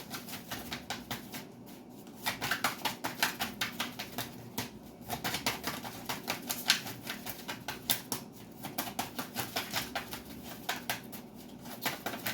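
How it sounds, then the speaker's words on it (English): Tarot cards are shuffled repeatedly, a rapid riffling patter in bursts, close and fairly quiet. "Two more shuffles and I'll pull from the top."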